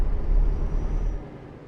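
Truck noise in the Euro Truck Simulator 2 video game: a steady, loud low rumble and broadband hiss from the truck, heard alone and easing off toward the end.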